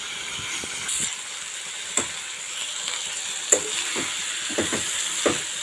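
Chicken butter keema being stirred and fried in a pan, with a steady sizzling hiss and scattered scraping clicks of the spatula; close and moderate in level, no talking.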